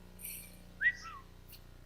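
A short, faint rising whistle with a couple of quick chirpy notes, heard alone over a quiet low hum.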